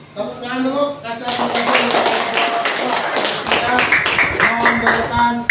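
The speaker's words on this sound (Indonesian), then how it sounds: "Tepuk tangan dulu." Students in a classroom applaud with a short run of scattered, fairly close clapping and taps, mixed with voices talking.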